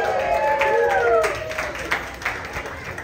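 An audience at a community book talk in Tucson breaks into scattered clapping mixed with a few high whoops and cheers. It fades after a couple of seconds.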